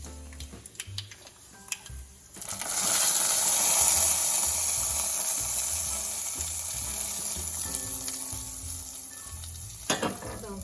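Hot oil tempering with curry leaves and chillies poured into a mango yogurt curry, a loud burst of sizzling that starts suddenly and slowly fades to a softer hiss before stopping.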